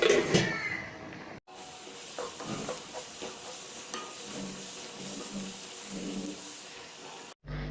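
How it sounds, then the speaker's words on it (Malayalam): Onions sautéing in a pan for a Kerala-style squid roast, giving a soft, steady sizzle with intermittent stirring scrapes and clicks, close by and fairly quiet. "സവോള നന്നായിട്ടൊന്ന് വഴറ്റിയെടുക്കുക"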